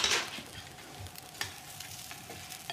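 Food fries quietly in a pan in a home kitchen, a soft sizzle with a brief hissy burst at the start and scattered light crackles and taps, faint and close.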